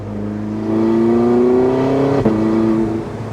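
Porsche 918 Spyder engine pulling under throttle, a loud, close, steady drone whose pitch climbs gradually, with a brief tick and shift near the end before the note settles again.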